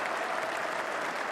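A Test match cricket crowd of about 30,000 gives James Anderson a standing ovation at England versus West Indies, a broad, steady wash of applause sounding distant and evenly sustained.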